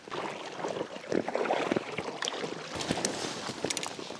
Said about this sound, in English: now the problem now is that we are paddling against the wind on our way back